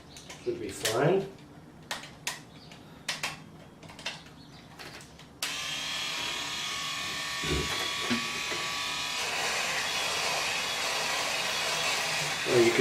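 An electric razor buzzes while shaving off a full beard, starting with a few short scraping bursts and then settling into a loud, continuous close-up drone with slight pitch shifts as it tugs through the hair.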